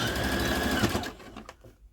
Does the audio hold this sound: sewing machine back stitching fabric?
yes